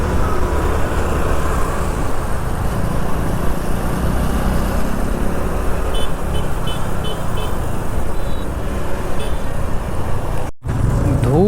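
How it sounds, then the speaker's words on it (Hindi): Slow, crawling road traffic on the Haridwar–Dehradun route, heard from a moving scooter: a steady loud rumble of cars and engines with light, distant horn toots, and a brief dropout near the end. "धूल मट्टी और भाई साहब गाड़ियाँ धीमे धीमे चल रही हैं कछुए की चाल से"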